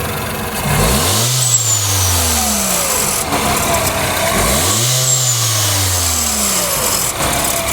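A 2012 Peugeot RCZ engine revs hard twice, each rise followed by a falling whine as it winds back down, with a faint turbo whistle and a noise from the turbo on top.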